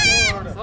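Baby goats bleating nearby, a short wavering bleat that fades into a softer, shakier call, with a busy crowd murmuring underneath.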